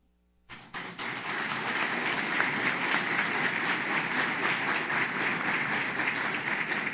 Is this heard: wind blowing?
no